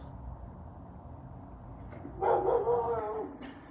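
A dog gives a short burst of whining, yelping barks, fairly faint and distant over a low background hum.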